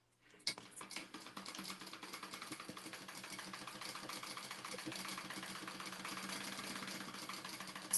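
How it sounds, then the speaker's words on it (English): A sewing machine top stitching fabric for a Taymor bag project runs steadily after a sharp start, a fast, even mechanical whir and rattle at moderate, constant level for several seconds. "Go ahead and top stitch."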